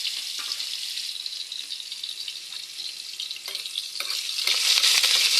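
Onion and garlic sautéing in a hot pan, with a dense, steady hiss of frying that swells louder toward the end, broken by a few light utensil taps and stirs.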